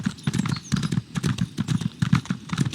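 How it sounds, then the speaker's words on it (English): A horse's hooves clip-clop at a quick galloping rhythm in Elder Scrolls Online, close and steady across the whole stretch with no talk over it. "My horse is going to take the dip."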